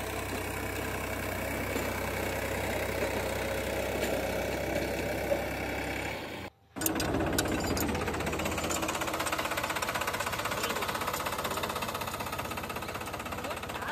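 A tractor or power tiller engine plows a village field near Nabadwip, holding a loud, steady mechanical chugging drone with a brief dropout about halfway through before it resumes at full strength.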